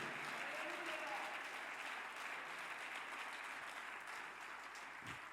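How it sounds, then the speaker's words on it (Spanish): A church congregation applauds loudly for Christ during a sermon, a continuous wash of clapping heard at a distance with faint voices mixed in. "Dele un aplauso más fuerte a nuestro Cristo maravilloso."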